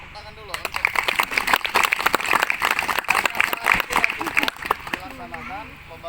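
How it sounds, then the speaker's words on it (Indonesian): Crowd at a campsite gathering applauds, with irregular close claps and a murmur of voices mixed in over several seconds. "Wah, tepuk tangan dulu untuk"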